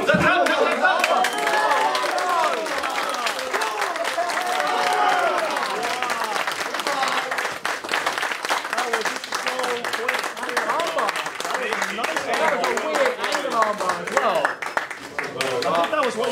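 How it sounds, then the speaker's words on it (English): Crowd applauding at an MMA event, a steady wash of clapping and cheering that runs loud throughout, with voices mixed into the noise. "Big round of applause, come on"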